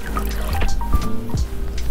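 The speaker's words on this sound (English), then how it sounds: "we're going to rinse and wash it off" Warm running water rinsing a face mask off hair, a close, irregular trickle and splashing with wet squishy handling sounds throughout.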